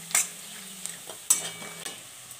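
Onion, ginger and garlic fry in a pan with a little coriander powder, making a soft sizzle under several distinct stirring scrapes and clinks of a spoon against the pan, about four sharp strokes spread across the clip. No one talks.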